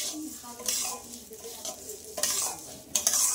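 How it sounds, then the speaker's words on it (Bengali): Mung dal being fried in a pan for khichuri, with a soft steady sizzle broken by repeated scraping stir strokes and light metallic clinks across a few seconds, close and moderately quiet. "ডালটা আমি একটু ভালো করে ভেজে নেব।"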